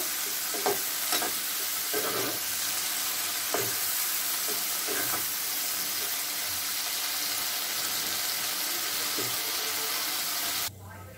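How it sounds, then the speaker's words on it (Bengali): Prawns frying lightly in a pan, a continuous loud sizzle close by with several sharper stirring or spatula scrapes scattered through, stopping abruptly near the end, with no talking. "চিংড়ি মাছগুলো হালকা করে ফ্রাই করে নেব।"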